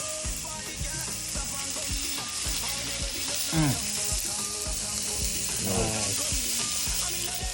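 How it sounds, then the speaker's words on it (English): Chicken burgers sizzle and fry on a coal pot outdoors, a steady crackling hiss with scraping and clinking of a utensil, while a voice briefly speaks over it. "Hear the sizzle."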